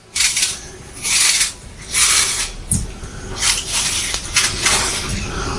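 Boskop cooking apples being peeled by hand, with repeated scraping, rasping strokes of the peeler in rhythmic bursts, close and fairly quiet in a kitchen.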